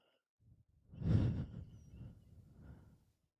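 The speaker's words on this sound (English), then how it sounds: "I'm just gonna take a breath in and out." A single person breathes in and then out in one slow, audible, sigh-like breath, close and fairly quiet, with no talking.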